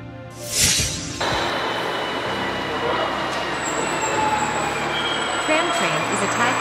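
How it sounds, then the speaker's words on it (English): A tram train rolls past on city rails, a loud, steady rumble with a high wheel squeal running through it, close by and continuous. "Tram train."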